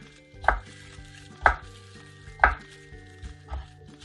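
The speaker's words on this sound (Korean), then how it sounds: "감자도 듬성듬성 먹기 좋은 크기로 자기가 먹기 좋은 크기로 이렇게 썰어주시면 됩니다" A knife cuts potatoes into chunks on a board with four crisp, evenly spaced chops about a second apart, over a faint background hum.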